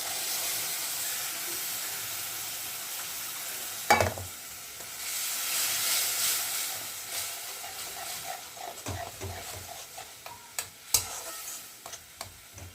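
Ground spice masala with grated ginger sizzles and hisses steadily in hot oil while being sautéed and stirred for a tangra fish curry, with occasional sharp clatters of the spatula against the pan.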